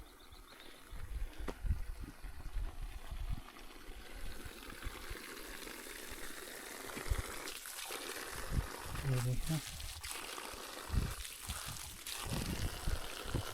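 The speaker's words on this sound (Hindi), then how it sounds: "ये देख रहे हैं किस तरह से निकल रहा है पानी" Spring water gushes and splashes steadily from two taps at a mountain spring in the Koh-e-Suleman range, heard as a constant rushing wash beneath someone speaking close by.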